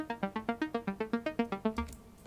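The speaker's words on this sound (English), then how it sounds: "So I kind of put an EQ on, took out the low end, took out the high end, sort of band past it" Band-passed Logic ES2 synth pluck with lows and highs trimmed away, mellow tone, a steady run of about ten quick notes in even rhythm, quiet and alone, closing on a held note.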